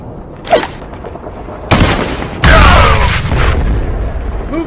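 Grenade blast in a stop-motion war battle, a loud sharp boom followed by a second heavier explosion with rumbling debris and scattered gunfire-like crackle, close and dominant with no voices.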